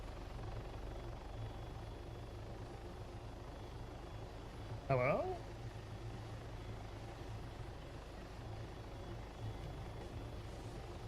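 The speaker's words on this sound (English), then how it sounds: "how are 3 people just not getting out of my helicopter right now?" A video game helicopter drones steadily and continuously throughout. A brief voice cuts in over the rotor hum partway through.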